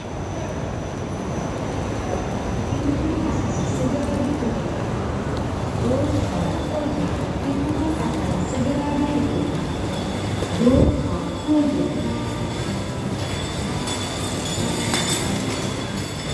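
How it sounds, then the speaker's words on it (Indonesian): An airport skytrain arriving at the Soekarno-Hatta Terminal 3 station, a steady rumble of rail cars with brief wheel squeals and clicks, heard from the platform amid a busy station hum and some background voices. "Kita tunggu dulu sampai nanti trainnya datang ya."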